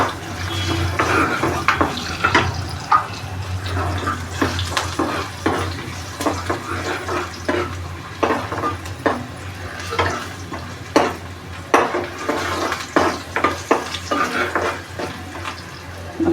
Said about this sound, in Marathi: आधी आपण काजू टाकूया काजू थोडेसे फ्राय करू